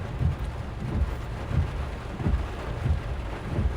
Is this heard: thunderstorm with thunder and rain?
yes